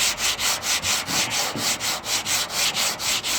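Sandpaper rubs lightly by hand over car body work being prepared for repainting, producing a loud, close, steady back-and-forth rasp of about four strokes per second, with no talking.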